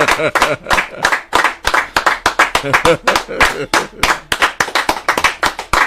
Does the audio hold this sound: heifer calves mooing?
no